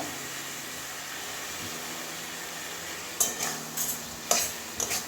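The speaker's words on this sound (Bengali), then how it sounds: "ভালো করে মশলার সঙ্গে মিশিয়ে দেবো" Boiled taro stolons are stirred into fried spice paste sizzling in a pan, a soft steady sizzle broken by several sharp scraping clacks of a spoon against the pan near the end, with no talking.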